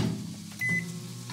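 A microwave oven runs with a low steady hum, and a single short high beep rings out partway through.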